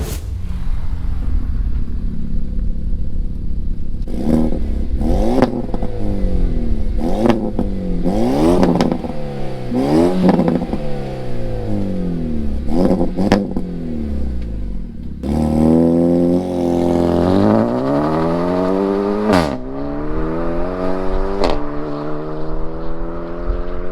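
A Renault Megane drives along with its engine loud throughout, revving up and down repeatedly in rising and falling sweeps between gear changes, with no talk over it.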